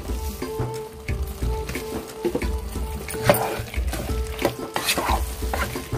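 Dry fish and egg curry sizzling in a pan as chilli powder is stirred in, with rhythmic scraping stirs and clatter over a constant close frying hiss.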